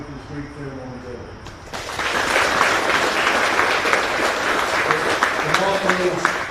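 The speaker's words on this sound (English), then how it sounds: "another round of applause for the soldiers on the field" Applause breaks out for soldiers on the field at an Army field artillery brigade change of command ceremony, rising after a short stretch of amplified speech and continuing as broad, even clapping from an outdoor crowd.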